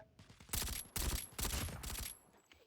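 Gunfire in a Call of Duty multiplayer match, several rapid bursts of automatic fire in close succession, moderately loud with a sharp ringing tone, no talking over it.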